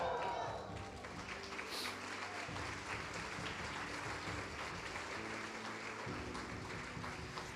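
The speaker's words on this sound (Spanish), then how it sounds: "Vamos a darle un grito de júbilo y aplaudirle a Cristo fuerte" A church congregation claps and cheers for Christ during a sermon, a steady, dense wash of applause with shouts mixed in, sustained at an even level from start to finish.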